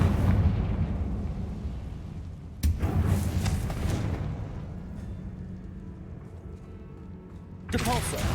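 Fiery blast explosions from the Confringo spell in Hogwarts Legacy, with loud booms and rumbling combat noise throughout and a fresh burst near the end.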